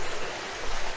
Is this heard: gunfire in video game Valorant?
no